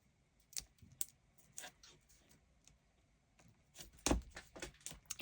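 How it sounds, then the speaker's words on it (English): Strip of tape pulled off paper during a vellum papercraft project, heard as a series of faint, crisp crackles and ticks, several scattered taps and a louder tearing burst near the end, with no talking. "So I'm just going to pop that tape off here."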